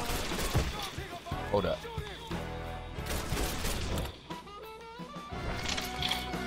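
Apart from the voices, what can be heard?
gunfire in the video game Mafia III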